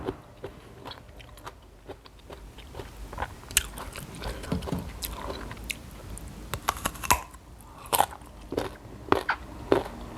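Someone bites into and chews a crunchy, unripe-style mango up close, with repeated sharp crisp bites and wet, crackly chewing that swell and fade over several seconds without talking.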